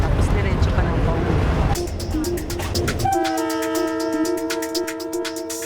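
A train passes with a heavy low rumble that gives way to rhythmic wheel clatter and sustained tonal horn or brake tones, loud and close, with a voice speaking over it.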